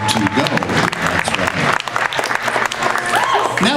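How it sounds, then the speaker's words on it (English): Audience applause at a comedy hypnosis show, a steady dense clapping from a crowd filling the room, loud and continuous with a few voices calling out over it. "Give them a big round of applause, everyone."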